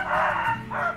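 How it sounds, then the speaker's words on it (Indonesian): An Indio Gigante rooster crows close by on a farm, one loud, drawn-out cock-a-doodle-doo with a short dip midway before the final rising note. "Nah ini ayam indionya."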